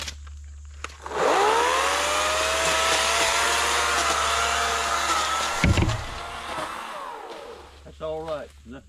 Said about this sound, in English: we got our Ego electric saw here